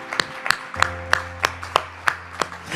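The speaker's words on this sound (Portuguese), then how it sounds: "Eu mesmo aplaudo" A preacher claps his own hands alone, about eight sharp, evenly spaced claps at a steady pace, close and clear over a low hum.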